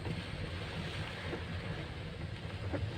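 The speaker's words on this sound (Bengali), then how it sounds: "আজকে এমন শুরু হয়েছে যে আজকের বৃষ্টি আর থামাথামি নাই" Heavy, unrelenting rain pouring down on a street, a steady rushing wash with a soft low rumble, even and unbroken throughout, moderately quiet and with no voices.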